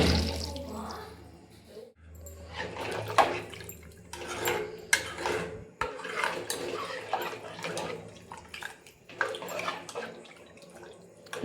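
Water poured generously into a spiced mixture for an idli side dish in a home kitchen, heard as uneven splashing and trickling bursts with short pauses, close and moderately quiet, with no talking.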